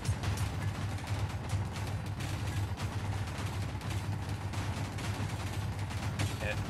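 Interior turrets fire continuously inside a vehicle in Space Engineers, a steady dense clatter of shots over a low droning hum with no pauses.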